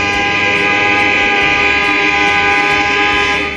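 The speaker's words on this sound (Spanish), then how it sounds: "los berlineses occidentales protestaron con un bocinazo contra el muro" West Berliners sound a mass honking of car horns in protest against the Berlin Wall, a loud, continuous blaring chorus of horns held steadily throughout.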